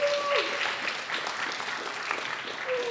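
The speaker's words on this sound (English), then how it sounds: "Yes, one more round of applause." A lecture audience at Belmont Abbey gives the speaker one more round of applause, a moderately loud, even wash of clapping lasting the whole stretch with no talk over it.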